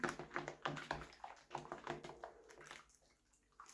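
Water rinses the tail and mane of a G3 My Little Pony toy being restored, splashing in uneven bursts close by before trailing off quieter near the end.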